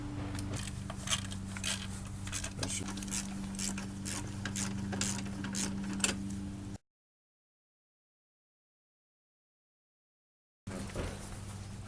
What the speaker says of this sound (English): I'm going to use a 1/4 inch 10mm deep socket wrench to unhook the battery basically from its housing